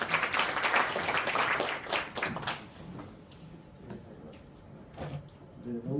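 Audience applause welcomes a session chair at a Korean sports AI and big data academic conference, a burst of clapping that fades after a couple of seconds, followed by quieter room noise and a voice beginning to speak.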